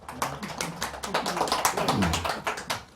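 Applause from an audience at a Buddhist dharma lecture, a steady patter of many hands clapping together, moderately close and fairly quiet, with no talking over it.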